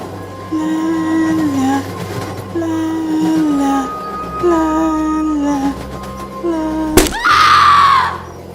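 A girl screams as she strikes a pole from a moving train's doorway, a sharp impact and loud shriek over the steady rumble of the train, after earlier tonal wails.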